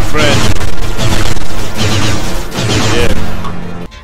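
Enemies in the VR space shooter Antiprism fire rapid, loud volleys of sci-fi gunfire in dense repeated bursts, with a brief break and then renewed shooting before it cuts off.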